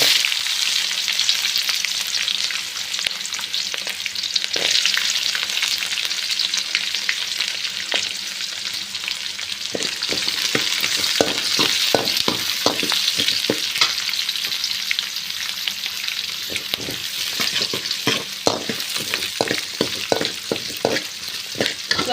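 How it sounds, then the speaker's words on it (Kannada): Two medium onions frying in oil with curry leaves and garlic for a ridge gourd sambar, a steady crackling sizzle over which a spoon stirs and scrapes the pan in quick irregular strokes. "ಆಯಿಲಲ್ಲೇ ಸ್ವಲ್ಪ ಈರುಳ್ಳಿ ಫ್ರೈ ಆಗಲಿ"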